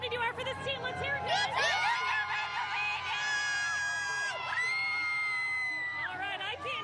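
Parade crowd at a Grand Slam celebration cheers, whoops and shouts, many voices including children's overlapping in excited rising yells that stay loud and continuous.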